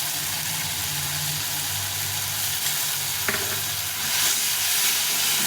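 Ginger, cumin and chilli paste frying with softened tomato in a pan: a loud, continuous close sizzle with faint stirring noises and one brief clink, no voices.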